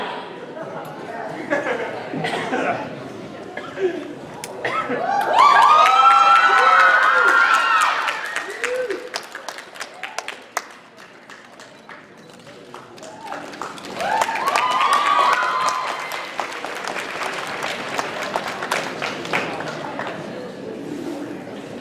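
A convention masquerade crowd of mostly young women cheering and screaming in two loud surges, with clapping and chatter between them and a voice talking under the noise.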